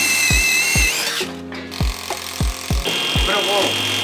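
A power tool drives screw bolts to fix reinforcing plates to an H-beam in a 105-year-old wooden building, giving about seven sharp, close, heavy knocks at irregular intervals over a tonal mechanical hum.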